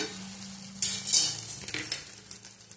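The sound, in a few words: stirring tomato chutney cooking in a pan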